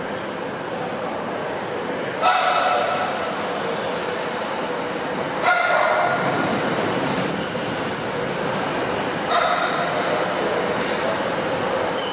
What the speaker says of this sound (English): Whilst on platform 5, a northern unit arrives, not from the Shetland Carlisle line despite the advertising, but from Newcastle via the Tyne Valley route.